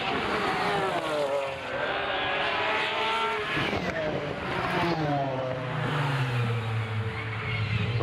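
A McLaren F1 GTR long-tail race car at a Goodwood Members Meeting circuit, its engine revving and rising through gears as it passes, loud and sustained, with a commentator talking over it.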